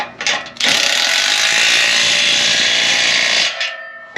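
A ratchet wrench tightens muffler bracket bolts on a supercharged 2019 Toyota Tacoma, a loud, close, continuous clicking run of about three seconds after a few short preliminary clicks, with no talking.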